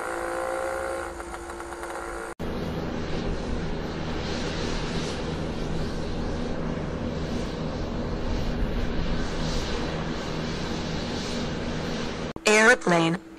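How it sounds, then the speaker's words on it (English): An airplane engine drones steadily for several seconds, a broad sustained roar, bracketed by brief bits of other sound at the start and end. "Airplanes are fixed-wing aircraft that are propelled through the air by engines."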